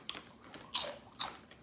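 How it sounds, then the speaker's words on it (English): A crunchy snack is bitten and chewed close up, giving two loud crisp crunches after softer small crackles, with no talking. "I love anything that crunch."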